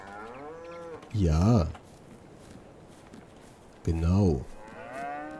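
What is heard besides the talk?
cows mooing in Farming Simulator 22 (video game)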